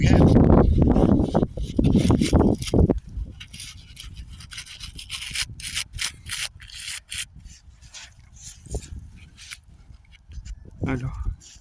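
Scratchy brushing on a small 1918 five-centime coin, close and rough at first, then lighter intermittent scrubbing, with people talking quietly in French throughout.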